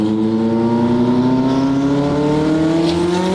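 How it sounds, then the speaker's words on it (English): A tuned 1300 whp McLaren 720 GTR engine drones loudly and steadily from inside the car, its turbocharged pitch slowly rising as it pulls. No separate blow-off valve release stands out. "Can you just give it a little so I can hear the blow-off valve again?"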